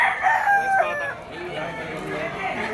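A rooster crows once at close range, a bright drawn-out call, followed by quieter clucking and background murmurs.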